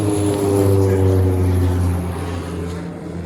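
A propeller plane drones steadily overhead on the flight path from Ogle, Guyana, its low engine hum loud and constant before easing off slightly toward the end.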